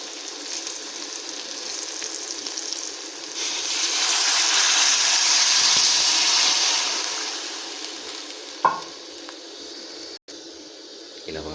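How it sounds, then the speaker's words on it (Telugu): Water poured into a hot pan while making upma, a loud rising hiss and sizzle that swells for several seconds, then settles into a quieter simmer ending in a sharp clank. "ఇప్పుడు నేను వాటర్ యాడ్ చేస్తాను."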